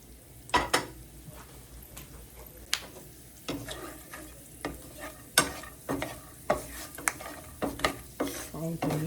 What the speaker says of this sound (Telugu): అది వేగుతూ ఉంటుంది.